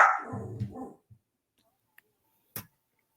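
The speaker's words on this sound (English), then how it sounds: "The dog's got lots of opinions tonight." A pet dog at home gives one close, loud bark that trails into a short growl, followed by a couple of faint, brief clicks and thumps in otherwise near silence.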